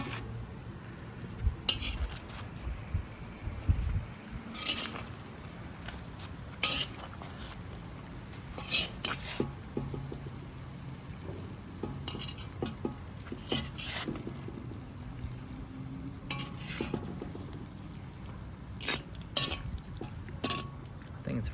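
Kazan kebab of beef, potatoes and vegetables being stirred in a metal pot, with repeated scraping and clanking of a utensil against the sides over a low sizzle, irregular bursts close by throughout.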